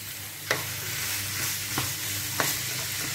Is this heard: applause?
no